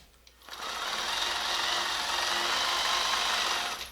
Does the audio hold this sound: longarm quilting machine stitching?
yes